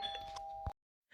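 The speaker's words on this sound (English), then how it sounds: "So if you can hear my ding dong doorbell, that's what it is." A ding-dong doorbell rings indoors, a bright sustained chime tone that cuts off abruptly, followed by a brief faint sound after a short silence.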